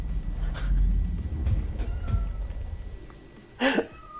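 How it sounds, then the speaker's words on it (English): A cat meows loudly from far across the house, a distant, roomy wail rising near the end over a low background rumble with faint earlier cries. "Fucking loud ass cat."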